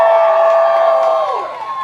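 Crowd at a lumberjack show cheering for a competitor, a loud sustained mass of shouts and whoops from the spectators that fades slightly toward the end.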